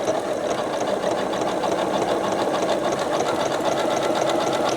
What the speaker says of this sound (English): Now I just simply start to sew.